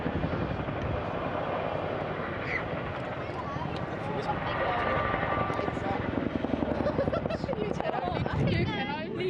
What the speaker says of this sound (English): all the Chinook pilots used to show off the capabilities and the power of the Chinook